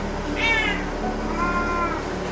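A cat meows twice, clear and fairly close, among a household of around a hundred cats, over a steady low background hum with no talking.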